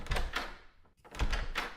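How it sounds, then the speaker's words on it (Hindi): A door being opened at home: two bursts of knocking or rattling handling sounds separated by a short quiet gap, fairly close and moderately loud. "दरवाजा खोलना, देखना कौन"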